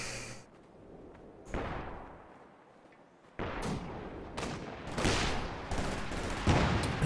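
Infantry support guns firing at max range in a Company of Heroes-style strategy game match, a string of booming shots and thuds, some distant, others sharper and closer, coming in an irregular barrage with no talk.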